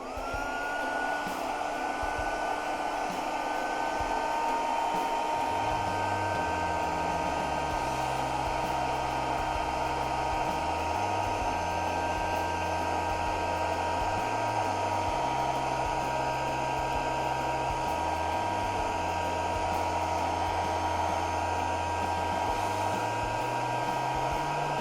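A heat gun blows steadily on Tinsel Gold embossing powder to melt it, a loud continuous fan-and-element roar with a low motor hum that wavers and shifts pitch throughout, no voices.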